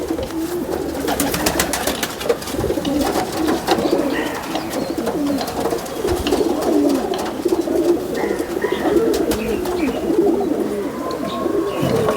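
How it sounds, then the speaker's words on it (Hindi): Many agitated pigeons coo continuously in low, rolling calls, with wing flutters and rustling mixed throughout a busy, close-up flock. "कबूतर बहुत ज़्यादा तेज़ घबरा रहे हैं"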